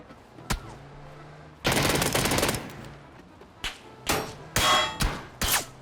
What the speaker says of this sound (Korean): 어디서 뭐 총소리 나는 거지?